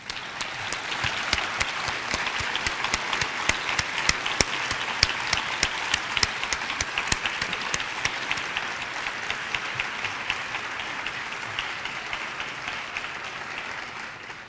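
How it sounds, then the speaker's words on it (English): Sustained audience applause fills a hall at a Boston Medical Center event, a dense even wash of many hands clapping steadily and loudly for the whole stretch without a break. "Let's give her a round of applause."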